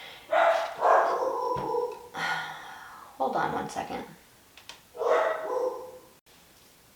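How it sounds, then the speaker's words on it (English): A dog barks in bursts from somewhere nearby in the house, while a person speaks intermittently over the noise. "So, sorry if the dog barking distracts you"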